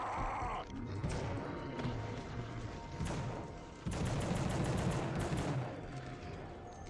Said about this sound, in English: Someone's still shooting at me. From the bushes, I suppose.